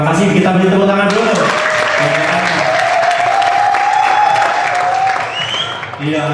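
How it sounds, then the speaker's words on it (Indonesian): An audience at a retreat talk show claps in sustained, loud applause that fills the room, under a speaker's voice and fading slightly toward the end. "Kita beri tepuk tangan dulu"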